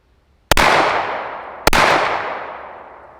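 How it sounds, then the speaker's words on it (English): Two sharp, loud unsuppressed pistol shots from a Glock 19X firing Fiocchi 158-grain rounds, spaced about a second apart, each with a long ringing decay. "Now we got the Fiocchi 158s. Glock 19X, 2 rounds unsuppressed."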